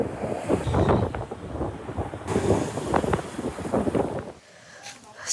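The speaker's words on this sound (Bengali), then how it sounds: "অনেক বাতাস" Strong seaside wind beside a coastal road on Koh Samui, Thailand, buffeting the microphone in heavy, continuous gusts, with a low rumble throughout that eases near the end.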